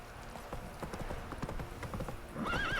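Roach the horse in The Witcher 3, hooves clip-clopping in a quick steady trot, then a high whinny near the end over faint game ambience.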